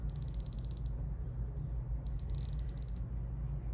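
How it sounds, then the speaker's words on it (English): Rotating bezel on a Breitling Superocean B20 Heritage dive watch clicking, two quick bursts of sharp, close ratcheting clicks separated by a pause, over a quiet low hum. "Let me do the bezel sound again"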